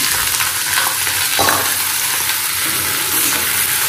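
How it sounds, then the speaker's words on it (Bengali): Potatoes frying in a pan, a dense, even sizzle heard up close with a single brief scrape partway through, no voices. "আলু ভাজাটা চাপিয়ে দিই।"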